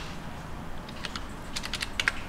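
Typing on a computer keyboard, soft scattered keystrokes that quicken into a brief run of clicks near the end, quiet and close over faint background hum, no speech.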